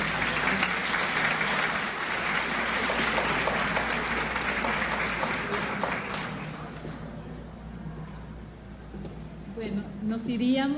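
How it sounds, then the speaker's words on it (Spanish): A conference audience at an educational innovation event breaks into sustained applause that fills the room for about six seconds, then fades into quieter murmuring and shuffling before a brief closing burst. "Les pido un fuerte aplauso para"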